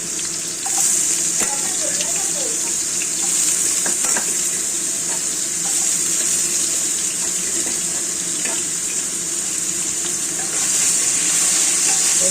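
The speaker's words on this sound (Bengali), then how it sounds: "প্রথমে আলুগুলো ভেজে তুলে রাখবো।" Potato pieces fry in hot salted oil for a drumstick-flower curry, giving a steady, close, loud sizzle that hisses without pause, broken by occasional faint clinks of stirring.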